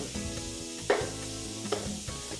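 Frog legs with garlic and chives frying in a pan, a steady close crackling sizzle with a few louder pops and spits, no one talking.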